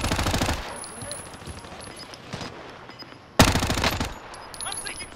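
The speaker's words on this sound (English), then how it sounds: "I'm taking fire. Enemy soldier incoming." Enemy soldiers fire on the player in a video game: two loud, close bursts of rapid automatic gunfire with a lull between them and some quieter shots in that gap.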